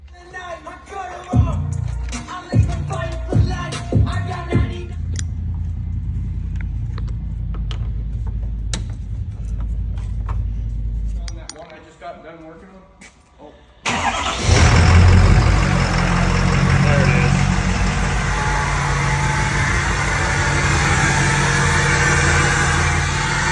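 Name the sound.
diesel engine with Stage 1 KC Turbo running during tuning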